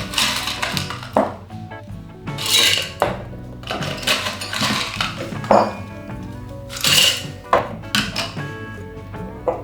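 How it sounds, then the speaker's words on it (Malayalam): Ice cubes rattle and clink into a container while a spiced immune-boosting drink is being made, in several bright bursts of clattering with short pauses between them, close by and with no talking. "അല്പം ഐസ് എടുക്കുക."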